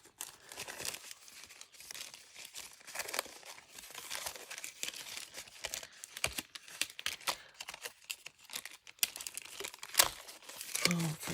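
A plastic bag crinkles and rustles in irregular bursts while being handled at a craft table, close and moderately loud, with no one speaking.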